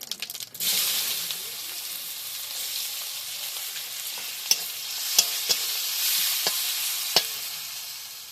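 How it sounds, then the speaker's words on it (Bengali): Chopped onion fries in hot oil with cumin seeds, a bright, continuous sizzle close by with a few sharp clinks and scrapes of a spatula stirring the pan. "পেঁয়াজটা একটু লাল লাল করে ভাজা হোক।"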